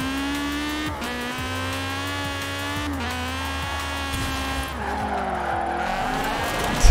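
Car drifting in Forza Horizon 4, a loud, steady engine drone with long tire squeals, brief gear-change dips and a final rev at the end, with no voices over it.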